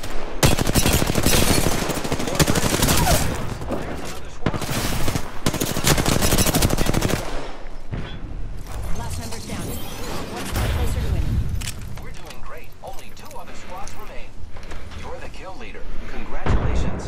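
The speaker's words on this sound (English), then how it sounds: "They're shooting at me." Rapid automatic rifle fire, likely an R-301, crackles loudly in an Apex Legends match on PS4, with dense bursts in the first half easing into scattered shots and other game noise later, while a player talks over it.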